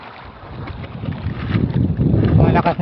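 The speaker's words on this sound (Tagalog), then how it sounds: "Pambira, malakas kasi yung hangin mga idol." Strong wind buffets the microphone on open sea beside a small paddled fishing boat near rocks, a loud continuous roar that grows rougher toward the end, with someone speaking under it.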